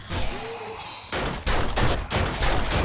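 Rapid pistol gunfire in the survival game 7 Days to Die, a quick burst of several loud, close shots in uneven rhythm after a short quiet stretch.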